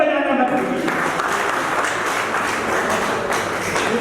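Crowd applause at a hospital event, a steady patter of clapping that continues under someone speaking loudly over it.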